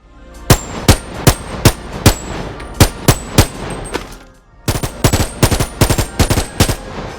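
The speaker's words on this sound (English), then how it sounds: "Different firing modes would also be a great addition, like the semi on the M16A2 compared to its more inaccurate but deadlier burst." An M16A2 rifle in the VR game Boneworks fires loud, sharp single shots at a steady pace, then after a brief pause switches to quick three-round bursts, close and punchy.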